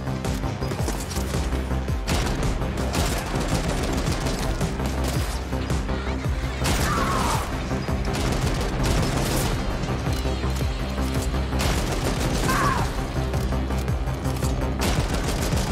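Enemy gunfire in the shooter game The Ascent, with ricochet bullets rattling in a dense, continuous barrage of rapid shots and impacts over a steady low rumble, loud throughout.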